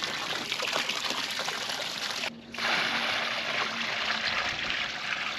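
Water runs steadily to top off a horse's water, a continuous trickling splash that breaks off briefly midway and then resumes.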